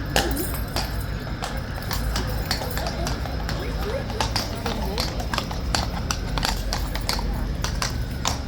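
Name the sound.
horses walking, hooves clopping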